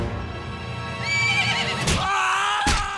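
A cartoon horse gives a loud, shrill neigh while hooves stomp and clop beneath it; the whinny wavers and rises near the end, close and prominent, with no talking.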